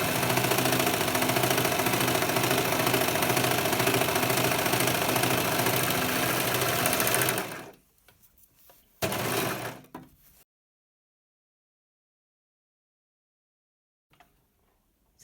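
A sewing machine stitching fabric runs with a loud, steady mechanical whir for about seven seconds, then stops, followed by a short second burst and then near silence.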